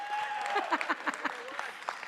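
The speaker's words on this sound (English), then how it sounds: "They've already clapped for you" A small audience at a Garmin Fenix 8 watch launch event claps briefly and faintly, with scattered claps under a tonal background and some voices.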